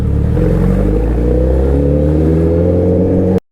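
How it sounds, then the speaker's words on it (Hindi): A Suzuki Hayabusa motorcycle being ridden, its engine a steady, loud, low rumbling drone with a slight pitch rise that cuts off abruptly at the end, with no voices. "तो पहले बाइक वापस मोड़नी पड़ेगी घर की तरफ।"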